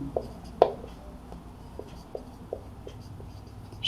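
Pen scratching and tapping on paper while writing out a Class 12 maths problem, with irregular short strokes, one sharper knock near the start and soft, close scribbles after it, and no talking.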